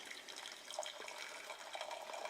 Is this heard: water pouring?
yes